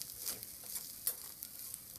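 Chicken fried rice is stirred and tossed in a restaurant-style pan, a quiet sizzle broken by soft scrapes and a few sharp clinks of the utensil against the metal.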